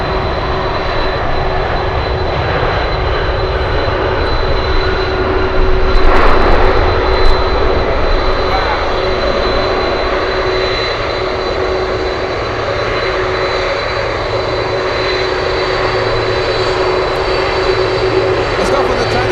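An American Airlines airliner at Anchorage airport gives a loud, sustained jet engine roar, swelling briefly partway through and then holding steady, with people talking over it.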